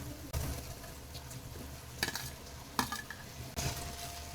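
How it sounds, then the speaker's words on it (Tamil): Fried raw plantain pieces get stirred into a soft onion and tomato masala in a pan over low flame: a quiet background sizzle broken by three or four sharp spatula scrapes and clinks against the pan. "வாழைக்காயை சேர்த்துட்டு பொறுமையா பெரட்டி விடுங்க"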